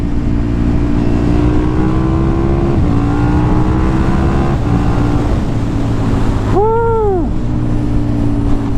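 A KTM 1290 Super Duke R motorcycle engine revving through gears with a quickshifter, rising pitch sweeps broken by quick shifts, ending in a sharp throttle blip, loud and close.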